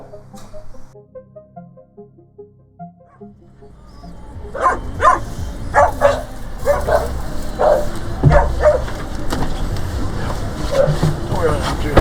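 Pit bull dogs bark and yip in short, scattered bursts from nearby, mixed with whimpers over an outdoor background. A faint melodic tone comes first, and the barking starts after a few seconds and continues to the end.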